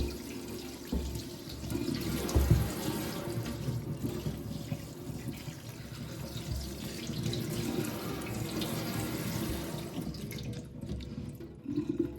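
Running water rinses a pair of waterwork boots, a steady splashing gush from a hose or tap with scattered droplet patter, close and continuous throughout, with no talking.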